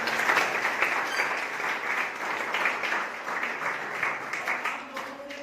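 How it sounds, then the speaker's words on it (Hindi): A crowd at a Kargil Diwas gathering applauds India's soldiers with sustained, moderately distant clapping that swells and dips in waves throughout. "अपने भारत माता के वीर सपूतों के लिए एक बार जोरदार तालियां बजाएंगे"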